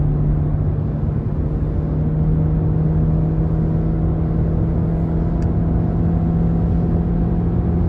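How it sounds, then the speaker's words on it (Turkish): A VW Passat B7 with a 1.4 TSI engine pulls uphill at full throttle in third gear, a loud, steady in-cabin engine drone with a strong low hum that holds constant throughout. "Aracı 3. vitese aldı. Şu an dip gaz."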